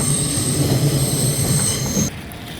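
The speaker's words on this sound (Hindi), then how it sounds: "ये ट्रेन स्टेशन है, सेंट्रल ट्रेन स्टेशन। ये कोपेनहेगन डेनमार्क में है" Train at Copenhagen Central Station in Denmark, a loud close rumble of rolling cars with a sustained high wheel squeal over it, cutting off abruptly near the end.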